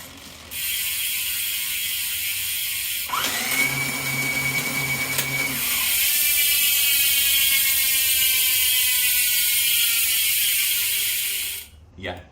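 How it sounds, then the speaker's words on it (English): Electric bicycle motor mounted on a wall rack whirs up sharply as the throttle is applied, a loud steady mechanical whine that rises and shifts pitch for several seconds before cutting off abruptly. "as soon as he hits that throttle, the whole bike moves"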